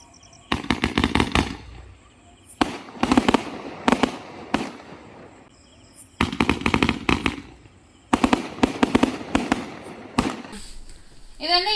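A multi-shot firework cake from a cracker shop fires in rapid crackling bursts, several separate volleys of fast repeated bangs with short gaps between them, loud and close.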